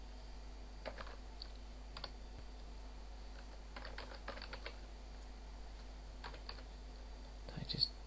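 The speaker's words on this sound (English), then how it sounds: "Just type that in there" Scattered taps on a computer keyboard at a desk, a few isolated keystrokes and short clustered bursts, faint and close over a low steady hum, with soft speech-like noise in the background.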